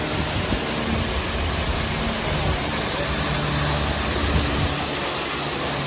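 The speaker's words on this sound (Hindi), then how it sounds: "ये नीचे से ज़ोरदार झरना बह रहा है" A powerful waterfall roars below the Amarnath Yatra mountain trail between Chandanwari and Sheshnag, a loud, steady, unbroken rush of water that fills the whole stretch.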